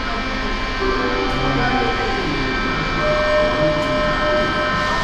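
A Budapest metro train rumbles steadily through the station, a broad continuous roar with tonal hum and a couple of brief squeals, close and loud with no voices.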